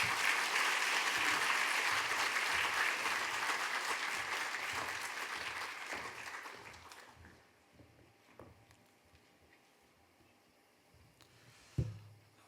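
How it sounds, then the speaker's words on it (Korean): A church congregation gives a guest pastor loud, sustained applause that fades out after about seven seconds, followed by a quiet room with a few scattered claps and one sharp knock near the end. "우리 나오실 때 한번 크게 박수함으로 환영하겠습니다"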